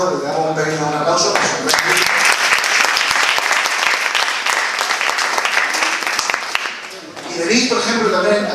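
Audience applause at a book presentation rises after a voice, a dense burst of clapping that holds for several seconds and then fades as talking resumes.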